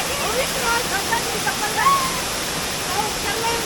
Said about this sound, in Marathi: तर आपण बघतोय समोर सुंदर असा धबधबा आहे